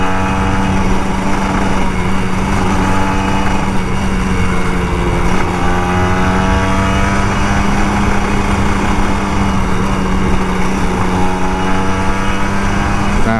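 Kawasaki Ninja RR 150 two-stroke motorcycle revving and accelerating in Sunday morning traffic, a steady loud buzzing engine note close by that rises and falls in pitch, with constant wind roar throughout.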